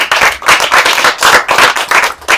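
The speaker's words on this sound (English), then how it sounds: "Can we get a round of applause for Sadhguru, everybody?" An audience at an interview applauds loudly and continuously, dense clapping swelling in waves for a couple of seconds with no voices over it.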